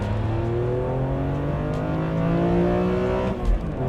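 A BMW E86 Z4 M engine pulls hard in second gear from about 3,000 RPM on an open UK road, its steady rising induction note climbing smoothly in pitch throughout, loud and continuous from inside the car.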